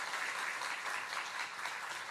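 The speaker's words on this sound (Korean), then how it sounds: "여러분 뜨겁게 박수로 환영해 주시기 바랍니다" A church congregation warmly applauds a visiting missionary, a soft, even patter of many hands clapping heard from some distance, steady for about two seconds with no speech over it.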